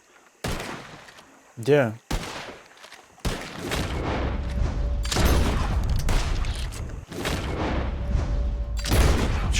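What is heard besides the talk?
gunfire in the video game Red Dead Redemption 2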